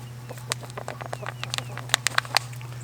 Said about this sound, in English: all the chickens are interested in coming over and seeing what I'm planting